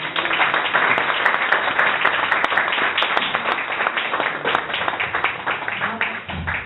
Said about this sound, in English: Thank you. Big applause.